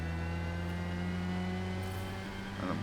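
A Formula Mazda race car engine in Forza Motorsport at Daytona Sports Car Circuit holds a loud, steady high-revving drone with strong harmonic tones throughout, dipping slightly near the end.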